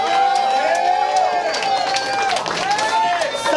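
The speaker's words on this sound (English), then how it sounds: "Y'all clap it up, man." A crowd at a rap battle claps and cheers continuously for several seconds, a dense near wash of applause and shouts, with a voice talking over it.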